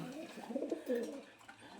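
Soft, low cooing of pigeons close by, a few rolling coos in quick succession, quiet and brief.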